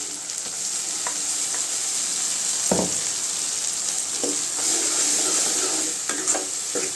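Sundakkai and onion sauté in oil for a kuzhambu, giving a constant bright sizzle with occasional spatula scrapes and stirring knocks, close and uninterrupted by talk.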